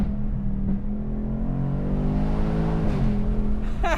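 Ford Mustang Dark Horse V8 with a 10-speed automatic, running after a downshift: a steady, throaty engine drone held at high revs with a slight pitch rise, loud and close throughout.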